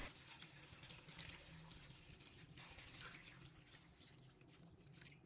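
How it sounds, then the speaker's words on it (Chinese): Clean tap water pours steadily into a basin of separated leafy greens, a continuous soft splashing and trickling that runs unbroken throughout, fairly quiet and close. "倒入清水"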